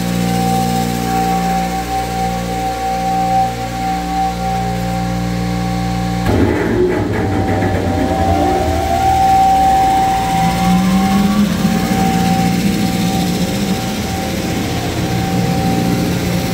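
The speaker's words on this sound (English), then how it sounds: "we're gonna turn on the vacuum so it can suck up the dirt" A Thermwood CNC router and its dust vacuum running loud and steady, a sustained machine drone whose pitch shifts partway as the second machine starts, with no talking.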